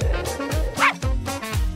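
A small dog gives a quick series of about five or six sharp, close yips and barks in under two seconds, with no talking over them.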